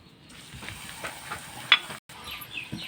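Luchi, a puffed fried bread, sizzles in hot oil in a home kitchen, a soft continuous hiss and crackle with small bubbling bursts, close and fairly quiet, with no one talking.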